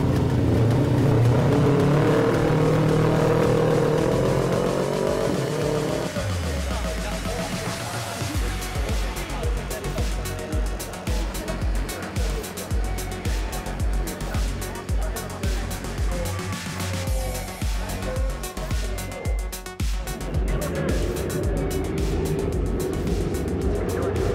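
AP250 motorcycles in an Asia Road Racing Championship Japan round final, a loud roar of many engines revving at the start and then a dense, pulsing stream of bikes buzzing past, with a voice talking over it throughout.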